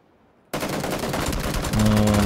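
Rapid automatic gunfire erupts suddenly in a Counter-Strike match after a brief silence, loud and close, a dense burst of shots joined by a tonal in-game sound near the end.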